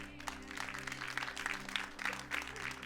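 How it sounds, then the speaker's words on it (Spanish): Applause from a church congregation breaks out in rhythmic waves of clapping over a low steady hum, moderately loud and sustained. "Un aplauso al Rey"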